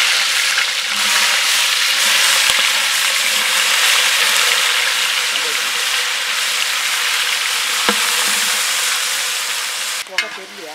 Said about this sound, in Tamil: அடுத்தது நம்ம கட் பண்ணி வச்சு வெங்காயத்தை போட்டுக்கலாம்.